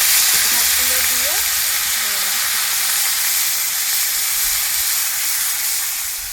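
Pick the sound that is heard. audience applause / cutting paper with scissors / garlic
garlic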